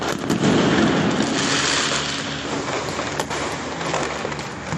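Dense, continuous crackling and popping of firecrackers going off in a rapid barrage on Kali Puja night in Kolkata, loud and close, with a sharp bang partway through.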